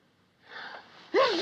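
A single close sneeze: a sharp intake of breath, then a short explosive burst with a vocal edge at the end.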